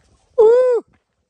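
A single short sheep bleat, about half a second long and fairly loud, standing alone against near silence.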